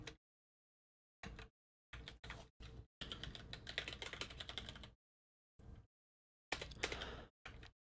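Bursts of rapid computer keyboard typing, near and fairly loud, in uneven clusters with short silent pauses between runs; a longer steady stretch of keystrokes falls in the middle.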